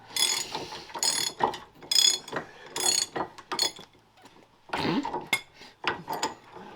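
A hand ratchet wrench on a budget truck build clicks in close, uneven bursts of rapid pawl ticks with short pauses between strokes, sharp and metallic.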